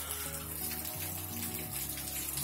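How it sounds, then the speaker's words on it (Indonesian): Heavy rain falls on a home garden, a soft, steady wash of water beneath faint tonal sounds, with no talking. "Dan hujannya makin besar."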